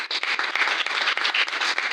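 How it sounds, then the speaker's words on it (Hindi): An audience claps hard for a speaker at a live gathering: dense, continuous applause from many hands, loud and close, with slight surges throughout. "पप्पू जी के जबरदस्त तालियां।"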